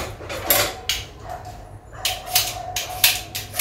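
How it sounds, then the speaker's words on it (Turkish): Several sharp dog barks ring out at irregular intervals, fairly close, over a low background hum. "Şöyle kapatayım köpeklerin sesini."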